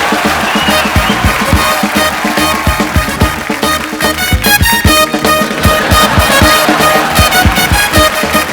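Loud, sustained applause and cheering from a studio audience as Anushka Sharma is welcomed onto The Kapil Sharma Show, with rhythmic clapping running steadily throughout and no talking over it.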